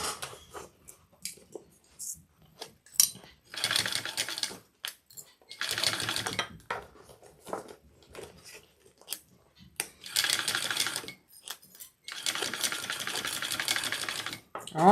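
A sewing machine stitches a fabric AnnaBelle shoulder bag in several sustained whirring bursts of a few seconds each, separated by pauses with small clicks and handling noises.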